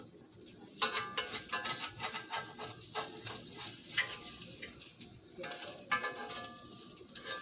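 An egg frying in a pan gives off a steady, moderately close sizzle with scattered crackles and small pops throughout, and a few utensil clinks can be heard. No one speaks.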